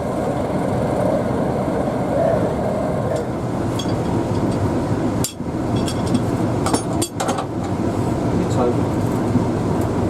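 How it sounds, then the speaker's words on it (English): From inside the cab, a British Rail Class 31 diesel locomotive built by Brush Traction runs between Ongar and North Weald. A loud, steady engine drone and rumble continues throughout, with a few sharp knocks and rattles in the middle. "We're going to jump in the cab of this Class 31 so we can get the opposite journey from Ongar to North Weald."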